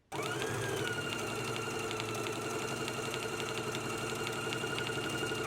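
A sewing machine runs steadily at close range, top stitching a quarter inch from a doubled edge and basting raw edges on a jacket, with an even, rapid mechanical whir and tick that never pauses.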